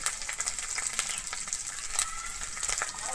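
Ginger paste fries in oil with a soft, steady sizzle and light crackles. It is faint and close, with no talk.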